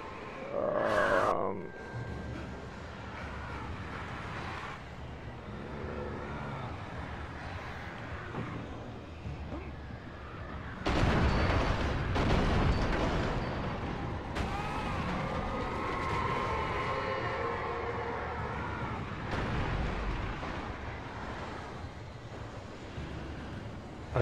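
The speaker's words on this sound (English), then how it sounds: "time to destroy the tornado" A tornado in the Alan Wake video game roars as a deep, continuous rumble with heavy gusting surges, swelling suddenly louder partway through and staying intense, with a faint voice now and then.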